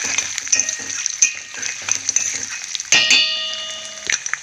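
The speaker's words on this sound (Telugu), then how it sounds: "ఇవి ఫ్రై చేస్తున్నాను అలాగే మినపప్పు కూడా వేసుకున్నానండి ఇదండి మినపప్పు మొత్తం ఇది ఫ్రై అవ్వాలి" Urad dal frying in a pan alongside chana dal, with steady sizzling and frequent stirring scrapes, plus a few metallic clangs from a utensil against the pan, close and fairly loud with no talking.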